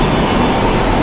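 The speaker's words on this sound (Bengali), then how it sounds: "ট্রেন এসে গেছে" A Kolkata metro train pulling into Kavi Nazrul station, a loud, close, continuous low rumble and roar filling the platform with no talking.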